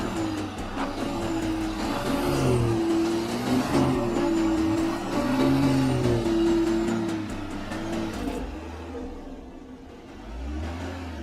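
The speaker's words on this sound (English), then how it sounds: "The X6 has reached the complex part of the climb. Listen to the engine sound." A BMW X6 SUV engine labours up a steep off-road hill climb, a continuous close drone rising and falling with throttle, with revs surging in waves before easing off near the end.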